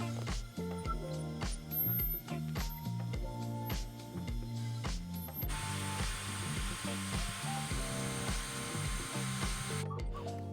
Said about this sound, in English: I'm using the Dremel as well to smoothen out any rough spots, just to make the smoothing sanding a lot easier and quicker